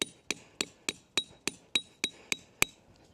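A tent stake for a Snow Peak Alpha Breeze tent is hammered against rock, ten bright ringing clinks in a steady quick rhythm, close and loud, with no voices.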